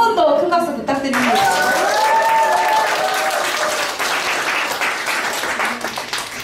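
An audience at a broadcaster's anniversary book concert breaks into loud applause, starting just after a brief musical tone and holding as a dense, sustained wall of clapping, with a little crowd noise mixed in.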